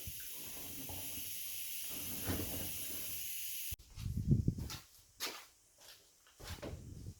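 Compressed air blown through a vapor-blasted bearing in a workshop: a steady, loud hiss for several seconds that cuts off abruptly, followed by a few short bursts and knocks of handling.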